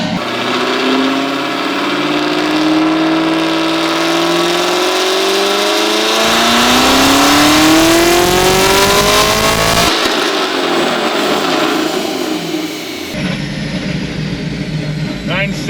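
A Chevrolet Camaro ZL1 with a Magnuson 2650 supercharger and valved Corsa exhaust revs hard on a dyno, a loud, close engine note climbing steadily in pitch through a long pull before dropping off, with brief talk in the background.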